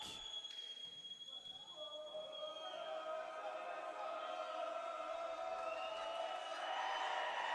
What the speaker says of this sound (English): You hear this crowd getting amped up